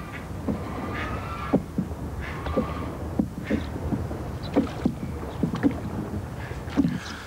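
Rhythmic paddle strokes of a dugout canoe made from a hollowed tree trunk dip and splash through water, each stroke a soft slosh repeating every second or so against a light breezy background.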